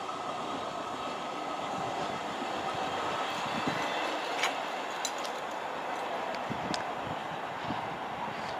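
A green Class 158 diesel multiple unit, number 158956, passes at Severn Tunnel Junction with a steady, loud rumble and roar that lasts throughout, with faint rail clicks and a few sharp metallic squeals. No one speaks.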